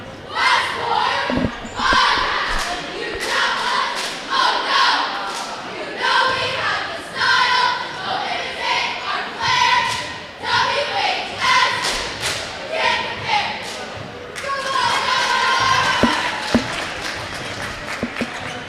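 A crowd at a high school boys' basketball game shouts and chants while cheerleaders lead rhythmic calls, with repeated thumps and claps punctuating a loud, reverberant gym roar throughout.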